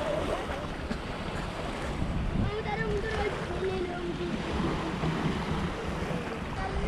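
Sea waves wash against the shore at Nusa Penida, Bali, in a steady roar mixed with gusting wind buffeting the microphone, with no clear breaks.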